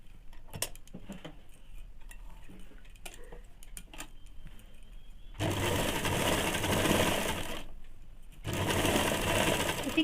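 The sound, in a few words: sewing machine stitching ladies' pants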